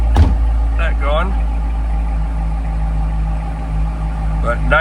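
A 2015 Chevrolet Corvette Z06 idles loud and close, a deep continuous rumble with slight wavering throughout.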